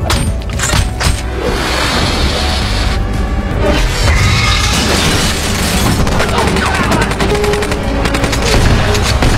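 Sustained gunfire from a Captain America: The First Avenger (2011) film scene, with dense automatic bursts and heavy booms rolling continuously and loudly over a chaotic action soundtrack.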